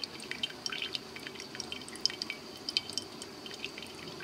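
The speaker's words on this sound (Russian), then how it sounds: "И уже начал капать сок." Pear juice drips from a steam juicer into a liter jar, making small rapid liquid drips and light splashes that patter irregularly and close by over a soft background hiss.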